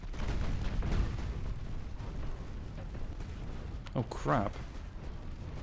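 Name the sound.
warship secondary guns firing in the video game Ultimate Admiral: Dreadnoughts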